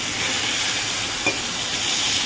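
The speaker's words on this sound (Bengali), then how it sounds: "এদিকে বেগুন ভাজা বসালাম" Eggplant slices frying in oil in a home kitchen, a loud continuous hiss and sizzle with no pauses and no voices.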